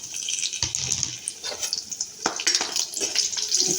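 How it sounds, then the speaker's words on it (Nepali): Green chillies hit hot oil for akbare khursani achar, crackling and spattering in close, irregular bursts with a watery hiss underneath, no talking. "तेल तातिसकेछ, अब मैले खुर्सानी राख्दैछु।"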